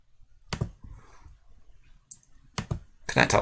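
Computer mouse clicking during FreeCAD sketch work, a few sharp close clicks separated by short quiet gaps, ending in a quick flurry of clicks.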